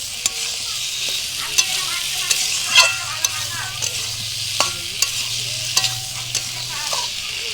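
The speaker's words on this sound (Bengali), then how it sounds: "এঁচোড় দিয়ে কষানোর পর সব কিছু দেওয়ার পর একটু ভালো করে কষিয়ে নেব।" Jackfruit, potato and prawns sauté in a pan with a steady, loud sizzle, while a utensil scrapes and clacks against the pan in irregular strokes close by. No voices are heard.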